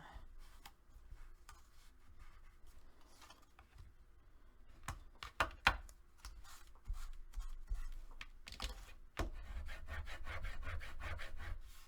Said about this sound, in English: And then go ahead and burnish.